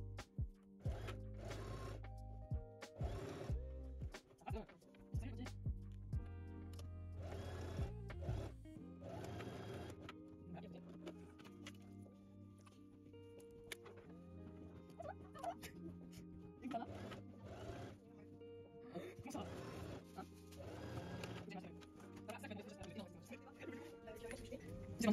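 A sewing machine stitches a jacket in a series of short mechanical runs that start and stop, with a voice talking over much of the sewing.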